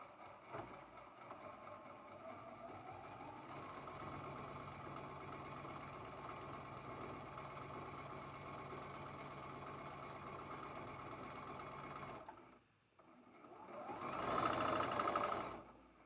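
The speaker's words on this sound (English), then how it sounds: "Then you're going to sew that seam" A sewing machine runs continuously while sewing the last seam of a Mayflower quilt block, a steady close mechanical hum and rattle that stops near the end before a brief louder rustle.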